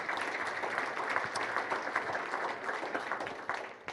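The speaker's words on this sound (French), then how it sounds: "qu'on peut les applaudir" An audience at a political movement gathering claps steadily, a dense sustained applause with no voices over it, holding at even loudness before easing slightly near the end.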